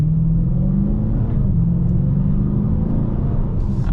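A V8 engine in a 2020 Dodge Challenger Scat Pack Widebody rumbles and revs low and steady, the heavy motor accelerating nearby with wheel spin and a constant throaty drone.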